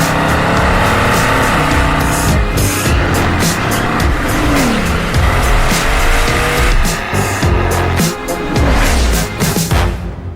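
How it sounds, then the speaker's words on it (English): The Bugatti Vision GT race car drives hard with a loud, continuous engine roar, tire squeal and shifting revs that swell and fade as it moves, filling the whole stretch with no talk. "felt the urge to go racing with a modern-day Bugatti."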